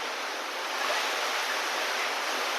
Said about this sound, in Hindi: हो रही है झमाझम वाली बिल्कुल बारिश बाहर